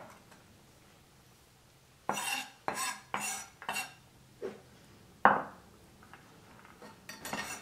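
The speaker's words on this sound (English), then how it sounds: "So you start by crushing the nuts, the walnuts, any way you see fit." Walnuts crushed with a knife on a board: a run of sharp, close cracking and knocking hits in irregular clusters, with a few quieter taps trailing off, no talking.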